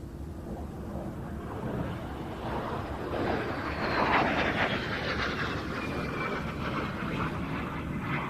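A de Havilland Vampire FB-52 jet passes at an air show, its broad roaring rush building and peaking mid-pass with a rising whine, then easing while still loud, heard without speech.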